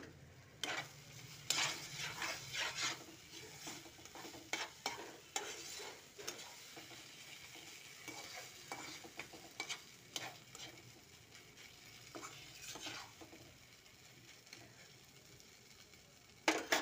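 Food fries in a pan with salt and is stirred, giving soft, quiet sizzling broken by frequent scraping and clinking strokes of the utensil at an uneven rhythm.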